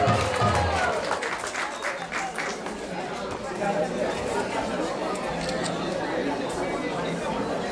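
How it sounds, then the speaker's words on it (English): A crowd applauds with dense, sustained clapping mixed with chatter and voices throughout, at the Panihati Chida Dahi festival in the ISKCON temple in Atlanta. "Let's give a round of applause for her"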